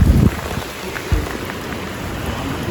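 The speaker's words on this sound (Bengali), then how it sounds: "বাইরে তখন ঝুম বৃষ্টি আর তুফানের মতো বাতাস।" Heavy rain pours down at night in the hills during a storm with strong wind, a dense, steady roar close by, opening with a louder low gust and with no voices.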